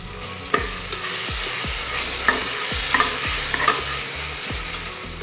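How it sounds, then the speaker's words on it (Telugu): Ginger paste and coriander fry in a pan for an Andhra-style potato and chicken curry: a steady sizzle with sharp spatula scrapes and knocks recurring about every half second to second, close and clear, with no talking. "ఇది కూడా కొద్దిగా పచ్చివాసన పోయేంత వరకు ఇట్లా వేపుకోవాలి"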